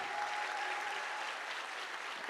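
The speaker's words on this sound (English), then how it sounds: "Keep that round of applause going for everybody that was on stage tonight." Sustained applause from a large audience at an evening stage event, a continuous even wash of clapping with no breaks, heard from some distance.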